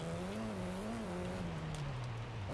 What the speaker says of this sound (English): We are just spinning the wheels quite a lot.